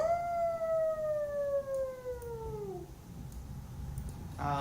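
A person imitates a howl in one long, wavering, slowly falling wail that fades after about three seconds, heard fairly close over low background noise.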